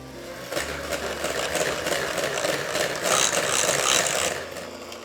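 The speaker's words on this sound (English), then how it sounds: "I'm just going to beat that together using my electric whisk, just to make it very light and fluffy" Electric whisk beating butter with crème pâtissière for a strawberry fraisier gateau, a steady close whirring drone running throughout with brief louder surges, no talking over it.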